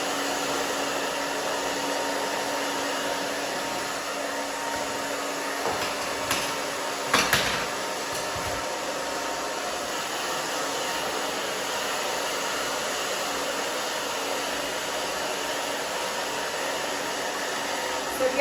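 A hair dryer blows steadily and loudly at close range while drying short, naturally curly pixie-cut hair with a round brush, a constant whooshing hum with a brief clatter partway through.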